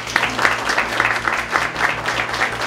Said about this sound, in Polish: Są to Anetka Masłyk, wielkie brawa, słuchajcie, dla nich.